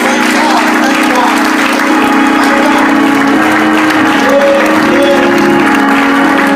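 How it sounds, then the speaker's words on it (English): A church congregation at a gospel service claps for newly installed junior deacons, a loud, dense, steady wash of applause with crowd noise and cheering throughout. "Now I want y'all to come on and clap your hands for these junior deacons."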